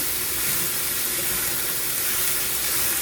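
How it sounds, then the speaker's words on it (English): Ginger sizzling in a hot pan for an egg roll in a bowl, a steady, close, broadband hiss and crackle with no talk over it. "I'm going to add the ginger"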